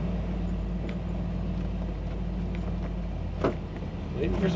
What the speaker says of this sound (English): There's a great rumble coming out the back of this car